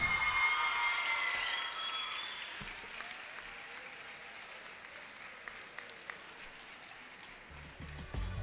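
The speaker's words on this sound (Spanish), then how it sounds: "Fuerte el aplauso." A graduation ceremony crowd applauds: a dense burst of clapping that fades over a few seconds into scattered claps and quiet room noise, with some faint talk near the end.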